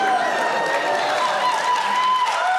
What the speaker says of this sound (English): Some of that applause feels sarcastic.